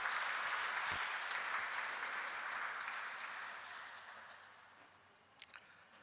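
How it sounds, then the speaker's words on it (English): Audience applause fills a lecture hall at a spiritual lecture series, steady and dense at first, then thinning and fading over several seconds before a few last scattered claps. "A round of applause for Bharadwaj sir."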